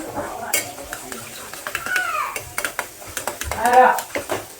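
Onions stirred and sautéed in a pan for paneer bhurji, a spatula scraping and clinking against the metal in quick repeated strokes with soft sizzling underneath, close and fairly loud.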